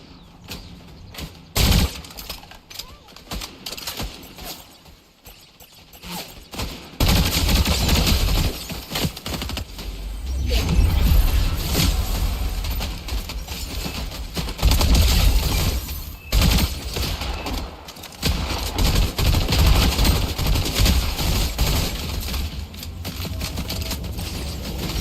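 Rapid gunfire from a Fortnite Zero Builds match on PS5, with dense bursts of automatic shots and scattered single cracks filling most of the stretch, loud and close after a quieter opening.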